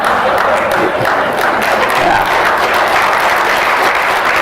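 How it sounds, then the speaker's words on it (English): A conference keynote audience applauds in a dense, continuous roar of clapping that holds at a loud, even level throughout, with a voice faintly underneath. "Hey Laila, they're applauding you"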